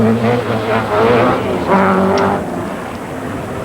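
A Toyota Celica rally car driven by Per Eklund at the RAC Rally, its engine droning loud with rising and falling revs, faint talk audible under the motor.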